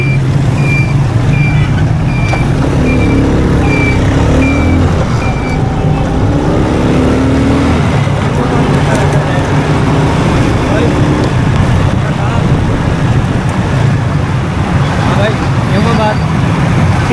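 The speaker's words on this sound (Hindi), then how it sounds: "सामने से आने वाली ट्रैफिक है बलोच कॉलोनी की, जो कि शहीद मिलत से आ रही है।" Road traffic coming toward the listener near Baloch Colony in Karachi, a steady loud wash of engines and tyres with a truck rumbling and intermittent reversing beeps, continuous throughout.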